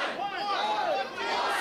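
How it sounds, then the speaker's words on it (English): A wrestling crowd in Yarmouth chants and counts along at a live match, a dense, loud wash of many voices shouting together and filling the arena. "Crowd here in Yarmouth counting along."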